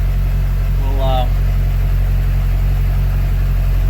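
A Duramax diesel pickup idles with a steady low, rumbling drone that stays even and close throughout, while someone talks briefly over it.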